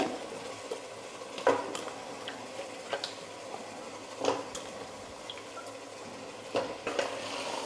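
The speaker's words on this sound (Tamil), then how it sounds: "இப்போ நல்லா கலந்து விட்டுடலாம்" Chickpeas and potatoes being mixed in a pan for kurma, with spoon scrapes and clinks against the metal over a low background hiss, louder knocks recurring every second or so.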